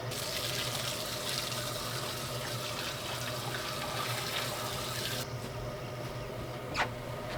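Water runs steadily into a garden planter, a continuous pouring and splashing that carries on for several seconds before easing slightly near the end.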